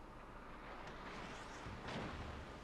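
Battleship Colorado firing its main guns in World of Warships, a broad booming salvo with a louder blast near the end over steady game background noise.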